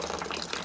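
Heated water from a Jompy water heater pours out in a steady, soft gush that runs without a break for a brief moment. The stream is fairly quiet and close by.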